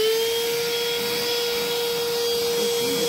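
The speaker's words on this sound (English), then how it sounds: "It's their cordless car vac / hand vac." A Flex 20-volt cordless hand vacuum runs steadily while cleaning up dust, a constant whining motor hum with a sharp high tone, close and loud, with no talking.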